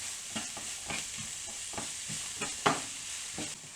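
Chopped carrots and jackfruit with turmeric, smoked paprika and salt are stirred in a hot pan, giving repeated scraping strokes every half second or so over a soft, steady sizzle.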